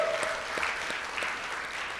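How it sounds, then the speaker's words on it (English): An audience at a Rotary club meeting claps for two Rotarians being introduced, a continuous wash of applause from a room of people with no one speaking over it. "Let's give them a round of applause."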